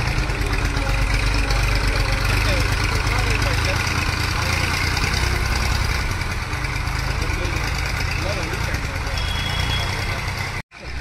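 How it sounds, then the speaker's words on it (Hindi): A faulty John Deere tractor engine runs steadily and loudly up close, a continuous rumbling drone that holds for nearly the whole stretch before cutting off abruptly near the end. "अब भैया जा रहे हैं अकेले ट्रैक्टर चलाने"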